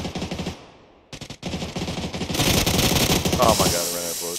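Rapid automatic gunfire in a PUBG battle, loud, dense bursts of machine gun fire rattling in quick succession, briefly pausing then resuming heavier, with a voice partly buried under the shots.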